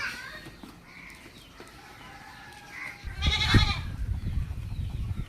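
A medium-sized Malabari dairy goat, a mother with two kids, gives a short, loud bleat partway through, standing close over a steady outdoor background hiss.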